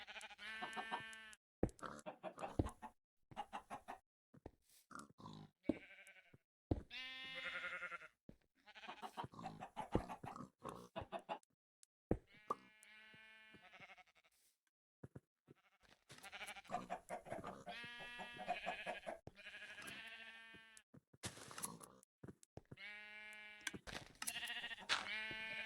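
Repeated bleats from sheep in a survival video game, coming in clusters of harmonic calls across the whole stretch, fairly loud and close, with brief gaps between bursts and no talk.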